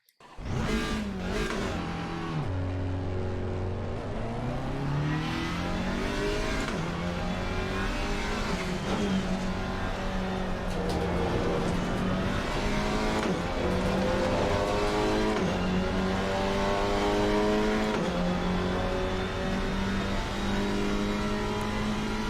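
Alpine GT4 race car in Assetto Corsa Competizione, its engine revving loud and close throughout, rising and falling as it shifts through gears on track, with faint tire squeal and no talk.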